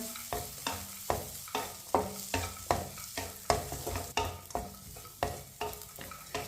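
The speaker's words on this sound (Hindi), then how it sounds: "1 मिनट के लिए मैंने चम्मच चलाते हुए पका लिया है, भून लिया है।" Semolina roasts in a pan while a spoon stirs and scrapes it in quick, regular strokes, each one a soft gritty scrape over a low sizzle, close and fairly quiet with no talking.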